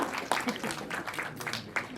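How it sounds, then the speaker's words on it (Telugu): Team members clap at a film poster launch event, a scattering of separate claps in an uneven rhythm, fairly faint and lasting about two seconds. "సో టీమ్ మెంబర్స్ గట్టిగా చప్పట్లు కొట్టాలి"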